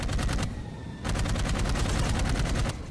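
Rapid bursts of automatic gunfire from the jetpack shooter game Dark Void, loud and close, in two sustained volleys separated by a brief pause.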